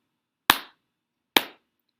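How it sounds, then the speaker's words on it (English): Two sharp hand claps, evenly spaced about a second apart, tapping out the two syllables of the word happy during a reading lesson; close, dry and alone with silence between. "Clap to happy."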